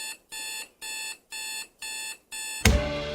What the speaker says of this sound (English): And finally, number 5, the physical alarm clock.